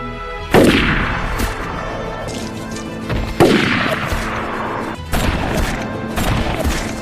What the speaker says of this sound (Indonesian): Namun kekacauan terjadi setelah Rocker menembak salah satu kartel tersebut